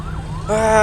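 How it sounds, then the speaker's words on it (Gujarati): An ambulance siren swells in over road traffic noise heard from a moving Eicher truck, its steady wailing tones growing louder in the second half of the short clip. "શું આવે એમ્બ્યુલન્સ છે."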